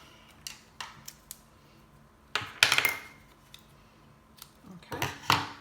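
Scissors snipping a one-inch piece of metallic thread at a craft table, a few quiet sharp clicks followed by louder crisp cutting snaps, close and without talk.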